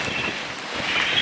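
Wind buffets a sailboat crossing open sea on a passage from French Guiana to Brazil, a steady roaring hiss with gusty swells and no pauses.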